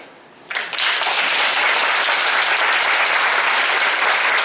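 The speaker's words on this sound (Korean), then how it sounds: "큰 마음의 박수와 뜨거운 마음의 박수를 전국의 모든 선생님에게 한번 치시죠" An audience in an arts hall breaks into loud applause for teachers at a charity event, with dense, sustained clapping that starts abruptly after a brief quiet moment and holds steady to the end.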